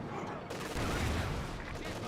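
MG34 machine gun fire in the World War II strategy game Company of Heroes 2, a dense continuous burst of battlefield gunfire mixed with other combat noise, with a commentator's voice running over it.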